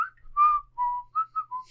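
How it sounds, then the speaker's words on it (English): A man whistles a cheerful, upbeat tune in short melodic phrases, clear and close, with no other sounds around it. "all you hear is this clanging in the background and this fucker whistling"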